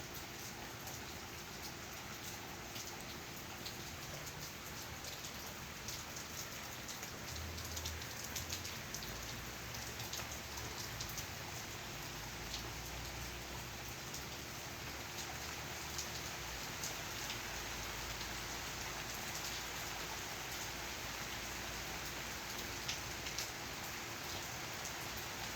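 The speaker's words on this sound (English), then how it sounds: "just want to show you some rain" Steady rain falls on outdoor surfaces in Kissimmee under an overcast sky, a continuous even hiss with low rumbling in the background and no voices.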